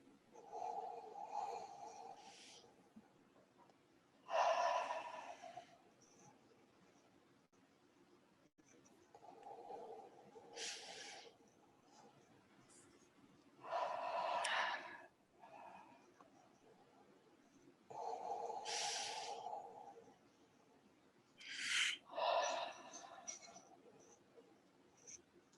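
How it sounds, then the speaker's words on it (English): Several slow, deep breaths drawn through the nose and let out during a quiet guided meditation, each a soft airy swell lasting a couple of seconds and separated by calm, near-silent pauses. "let's just do 3 more deep, mindful breaths in silence together"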